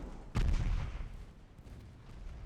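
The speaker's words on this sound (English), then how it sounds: "Just fire HE at it and sink the bastard." A single heavy boom of a warship gun firing high-explosive shells in the naval game Ultimate Admiral Dreadnoughts, a sharp loud blast followed by a rumbling decay.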